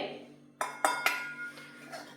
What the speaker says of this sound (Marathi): गॅसवरती आता मी एक कढई गरम व्हायला ठेवलेली आहे त्यामध्ये आता हे दोन वाटी बेसन घालून घेते